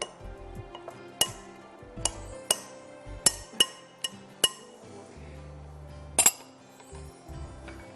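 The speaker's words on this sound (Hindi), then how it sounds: "मैं केलों को बहुत ज़्यादा अंदर मैश नहीं करना चाह रही, just cut them up a bit" Bananas being cut up with a utensil in a bowl for banana bread brownies, producing a series of sharp, close clinks against the bowl at an irregular pace, with quiet thumps in between and no talking.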